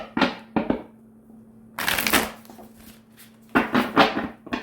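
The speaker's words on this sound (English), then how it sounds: "let's begin with a good shuffle" A deck of tarot cards is shuffled close up in three or four quick riffling bursts, separated by short quiet gaps.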